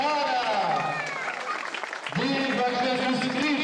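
Crowd applauding outdoors during a religious procession in honor of Our Lady of the Conception, a steady wash of clapping under loud voices cheering and talking throughout.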